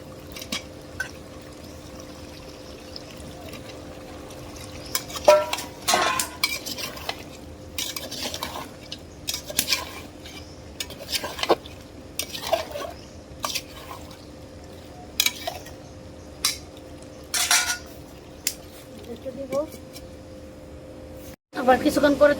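A utensil stirs a homestyle chicken curry with potatoes in a pot, producing scattered scraping and clinking strokes and soft sizzles at close range, with someone talking intermittently.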